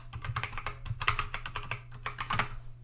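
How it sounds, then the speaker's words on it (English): Fast, close keystrokes clatter on a computer keyboard in quick bursts over a low steady hum while a login is typed on a Linux machine. "If I type it properly"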